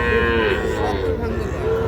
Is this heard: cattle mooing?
yes